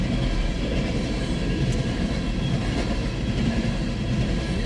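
A CN freight train of bitumen oil empties, led by an SD75IACC rebuild locomotive, rolls past at Ladysmith, Wisconsin, as a loud, continuous heavy rumble of rail cars with no voices.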